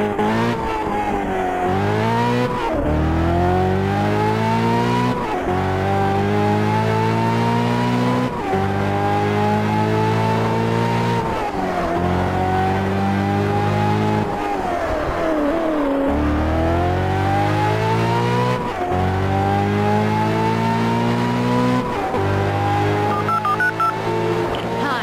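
A car in the racing video game Test Drive Unlimited 2 accelerates and revs hard, its loud engine note climbing, dropping at each gear shift, then climbing again several times in a steady, close-up drive.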